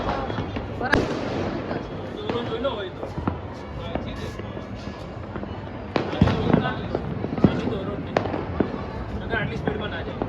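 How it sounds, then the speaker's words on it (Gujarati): Firecrackers and fireworks burst through a Vadodara Uttarayan night in an irregular run of sharp bangs and pops, growing denser and louder toward the end, with voices chattering throughout. "બધા ફટાકડા ધડા ધૂમ ધડા ધૂમ"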